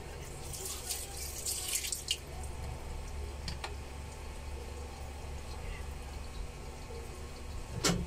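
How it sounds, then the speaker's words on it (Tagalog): Calamansi washed under running tap water at home: a continuous splashing stream with scattered drips and wet squishing as the fruit is handled, with a few brief louder knocks. "Lamansi. Hugasan natin ito"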